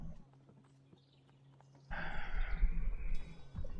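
Horse hooves clip-clopping, starting abruptly midway as a louder, close rhythmic clatter after a quiet stretch of low hum.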